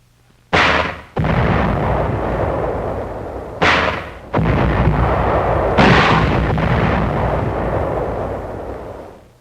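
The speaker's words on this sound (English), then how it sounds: "A 75mm howitzer mounted on an Amtrak shells enemy caves." A 75mm howitzer mounted on an amtrac shells enemy caves during the American landing on Okinawa. Several loud, sharp booms sound at uneven intervals, each followed by a long rumbling roar that carries into the next shot.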